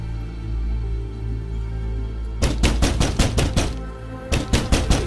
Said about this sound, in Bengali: আমি দৌড়াইয়া কুটির কাছে যাই আর জোরে জোরে দরজা ধাক্কাইতে থাকি।